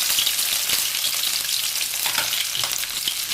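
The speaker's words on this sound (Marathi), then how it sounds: "लसूण थोडासा परतून घेते" Green chilies and garlic sizzle steadily in hot oil for a Maharashtrian dill greens stir-fry, a dense continuous frying crackle with occasional stirring scrapes and no voices.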